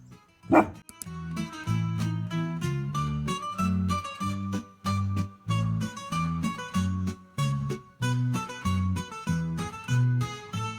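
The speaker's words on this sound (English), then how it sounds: "this is our big dog Tara." A big dog barks loudly and repeatedly at close range in Mussoorie, a hill station, with a steady run of deep, full barks and short gaps between them.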